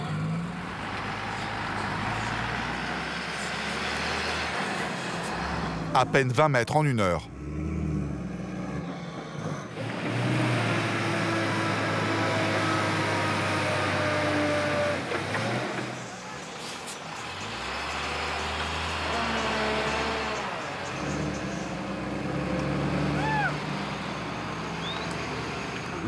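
A 25-tonne tanker truck is towed through deep mud, its heavy diesel engine rumbling and straining continuously with brief hissing bursts, while someone narrates over the noise.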